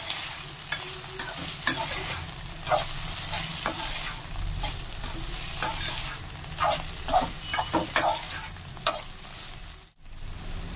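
Sago khichdi cooking on low flame on the stove gives a steady close sizzle with frequent scraping and clinking of a spoon stirring in the pan, with no talk.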